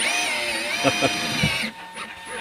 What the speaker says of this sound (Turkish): dört taraftan delik açtırıyor bana